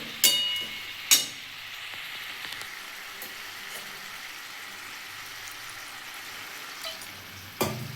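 Spinach cooking with a fish head for chachhori in a pan, stirred after a little water is added: quiet sizzling and frying hiss, a couple of sharp clinks of a spoon on the pan at the start, then soft scraping.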